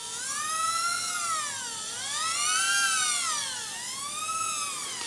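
The rotors of a tiny nano quadcopter drone whine in a high, buzzing tone that rises and falls in pitch, swelling and easing in slow waves as the craft is tilted, close and fairly loud.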